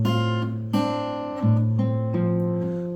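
A fingerstyle acoustic guitar plays the second bar of a song, four plucked chords and bass notes ringing out in a steady pulse, close and clean with no talking.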